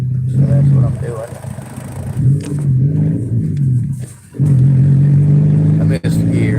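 A car engine drones and revs nearby, its pitch wavering and surging and briefly dropping away as a gear shift is missed, with someone talking over it.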